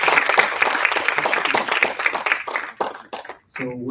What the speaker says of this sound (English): just another round of applause for Alana of Surge.